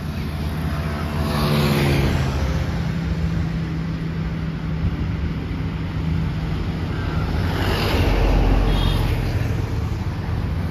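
A car drives along a highway, a steady broad rumble of road and wind noise swelling and fading slightly, heard from inside or near the vehicle with no speech.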